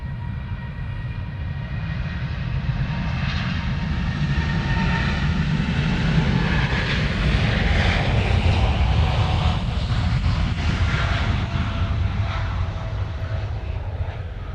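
An airliner departing Honolulu airport, heavily loaded, gives a loud, sustained jet engine roar that swells slightly toward the middle and holds steady for the whole stretch, with no talk over it.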